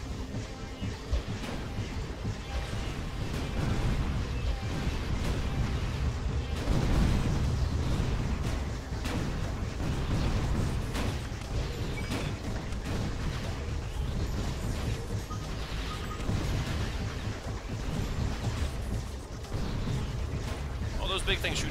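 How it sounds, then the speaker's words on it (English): Big enemies in the video game Tower of Guns fire giant energy balls in a chaotic barrage of repeated booming blasts and explosions. Someone talks over the nonstop gunfire. "All those big things shoot giant balls of energy"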